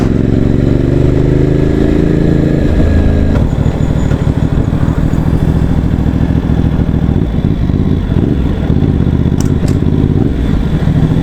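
A CFMoto 1200 motorcycle engine with a slip-on exhaust runs loud and close, a steady throaty idle that shifts into a rougher, sputtering exhaust rumble with occasional revs and mechanical clatter.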